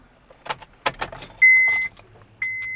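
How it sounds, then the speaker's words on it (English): A key jingles and slides into the ignition of a Honda car: a few light metallic clicks and rattles, then a steady electronic tone sounding twice, close and fairly quiet. "Alright, so insert the key into the ignition."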